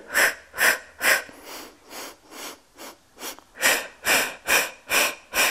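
Heavy rhythmic breathing during a beginner Pilates workout at home, about a dozen loud, close inhales and exhales in a steady pattern, slightly softer in the middle stretch.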